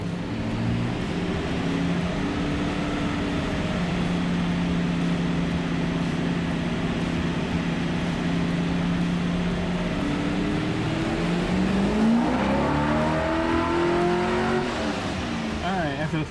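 A carbureted LS-swapped Chevy El Camino SS engine holds a loud, steady drone on a dyno, then revs up and sweeps higher in pitch toward the end.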